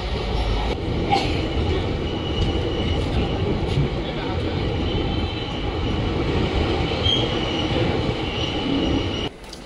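Puri–Shalimar special passenger train running, a steady loud rumble of wheels and carriage noise filling the whole stretch, heard from inside the coach with faint talk underneath and a brief drop at the very end.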